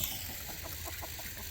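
Chickens on a small homestead farm cluck softly in a short series of quiet, evenly spaced calls, set against faint background hiss.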